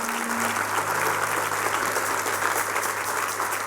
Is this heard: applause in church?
yes